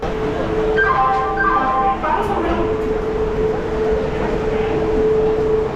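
Steady loud rumble of a moving passenger train, with a few tonal squeals and a faint voice under the constant rolling noise.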